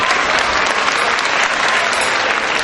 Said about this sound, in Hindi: और हमारे जो म्यूजिक आर्टिस्ट है, एक बार इनके लिए भी जोरदार तालियां प्लीज।